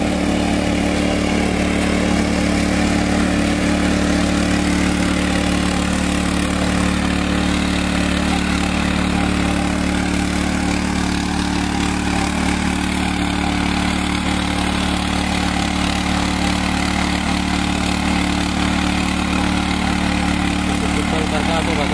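A tractor engine idles and churns with a constant, loud mechanical drone while puddling a muddy rice paddy for transplanting, with a voice speaking over it throughout.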